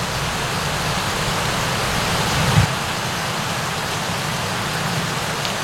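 Heavy rain pours down steadily during a fishing trip, a dense continuous hiss of drops with a brief louder splash or knock near the middle.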